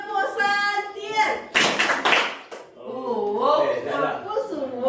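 A group claps together in a rhythmic Indonesian hand-clapping game, a few sharp bursts of clapping in the middle between stretches of chanted speech from a leader and the group.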